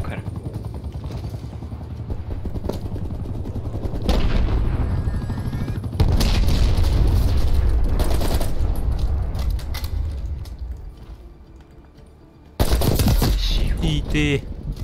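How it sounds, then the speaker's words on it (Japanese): Artillery shelling and gunfire in Call of Duty Black Ops Cold War, played on PS4 Pro: sustained loud rattling bursts and heavy booming impacts, with a sharp blast near the end. "砲撃。"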